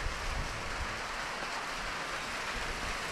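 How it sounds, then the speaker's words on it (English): Rain falls steadily in a forest in Nyahururu, a dense continuous hiss of drops on leaves and ground, close and even throughout with no voices. "It is raining."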